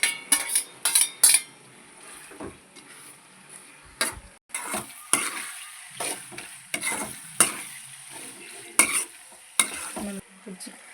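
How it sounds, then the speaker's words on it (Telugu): Boiled pasta is stirred into a sizzling masala in a pan, with repeated loud clinks and scrapes of a metal spoon against the pan over a soft frying hiss, in uneven bursts. "దీన్ని తీసుకొని ఇప్పుడు వడగట్టుకున్న దాంట్లో పాస్తాని ఇందులో కలుపుకోవాలి"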